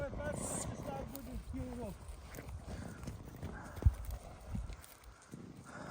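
Hollow clip-clop of horse hooves at a steady walking pace, fairly close, with people chatting over it.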